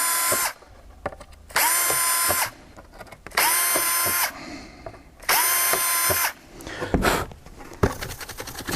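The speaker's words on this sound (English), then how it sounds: "now I can drill all the way through" A power drill whines in four sustained bursts as it drills through metal, each about a second long, with quiet pauses and light handling clatter between them.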